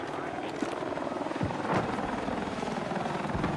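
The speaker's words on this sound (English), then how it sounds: "All units, attack helicopters ready for deployment." Attack helicopter in the video game Battlefield 6, a steady, close rotor thrum with rhythmic blade chop and engine whine, layered with game battle ambience and a few brief impacts.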